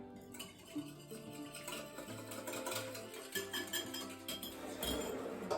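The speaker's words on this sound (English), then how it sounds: "just gonna whisk all that together" A whisk clinks and scrapes rapidly against a bowl, mixing ingredients with sweetener for an apple pie filling; the rhythmic metallic tapping is fairly quiet and close, with no talk.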